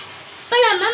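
Tomatoes hit a hot pan for Sankara fish gravy and sauté, and a loud, close sizzle bursts in suddenly after a quiet moment and keeps crackling steadily.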